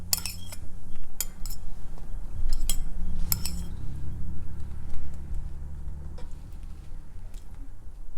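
A metal utensil scrapes and clinks against a pot of attieke, with several sharp taps early on over a low steady kitchen hum, followed by softer scattered clicks.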